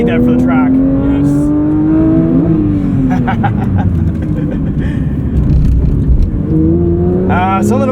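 A Porsche 911 GT3 on Cup 2 tires screams around the track at the Porsche Experience Center in Atlanta, its engine pitch climbing steadily through the revs, dipping at a shift, then rising again, loud and continuous inside the cabin.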